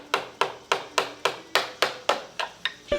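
A tool taps on the bellhousing of a Detroit 8V92 diesel engine while checking for bolts, producing about ten sharp metallic knocks at a steady, even pace, close and distinct, with no talk.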